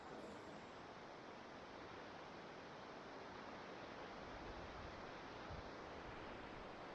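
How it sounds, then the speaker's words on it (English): A river along the Appalachian Trail rushes steadily, a dense, unbroken roar of flowing water heard close and fairly loud, with no talking over it. "So here's the river."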